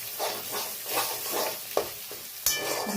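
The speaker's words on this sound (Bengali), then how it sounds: "এবার একটুখানি ভেজে নিই, ডিম মতন করে নিই।" Two salted eggs sizzle in a pan for fried rice, a steady frying hiss broken by rhythmic spatula scrapes and stirring, with a sharp metallic clank near the end; no one speaks.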